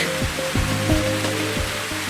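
Heavy rain falling in the Project Sekai video game: a dense, steady rushing hiss that fills the whole moment, with faint tonal sounds beneath it.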